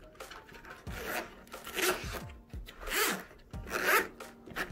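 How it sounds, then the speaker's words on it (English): A padded case for an iPad Pro 12.9 and Magic Keyboard is zipped shut in several quick, rasping pulls, close and clear, with no voices. "Zip it, and you're nice and protected."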